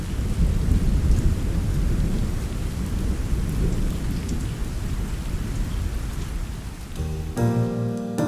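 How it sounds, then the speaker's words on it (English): Heavy tropical rain pours steadily with rolling thunder rumbling beneath it, a loud dense wash of sound that continues throughout before a brief musical tone cuts in near the end. "And in true tropical weather form, the rain cleared up"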